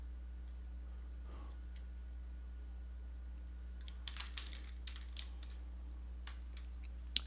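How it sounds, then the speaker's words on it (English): Clicky keystrokes on a computer keyboard while entering text in an image editor, coming in short bursts in the second half over a steady low electrical hum, close to the microphone with no talking. "I'm just going to type out the name of the channel here."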